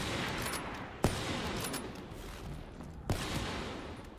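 Two sharp sniper gunshots in a video game tournament match, spaced about two seconds apart, each a brief loud crack over constant background game noise.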